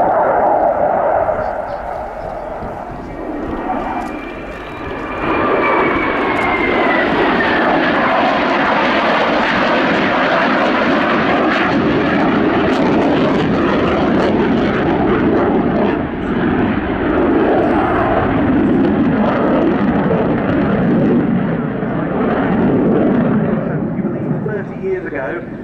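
A Ukrainian Air Force Sukhoi Su-27 Flanker, 'Blue 58', roars through an air show display with a loud, sustained jet engine blast and sweeping pitch shifts as it passes, while a commentator talks over it.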